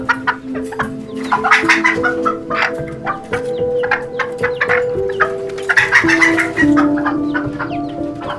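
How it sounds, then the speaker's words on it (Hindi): Hens kept in a coop cluck loudly and close by, with overlapping rhythmic clucks and a few longer drawn-out calls running throughout, no talking. "Hens are kept in a coop."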